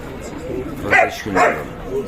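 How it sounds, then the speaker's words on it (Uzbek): Two short yappy barks from a 45-day-old puppy, close by, with a faint murmur of background noise between them. "45 kunlik kuchuklar."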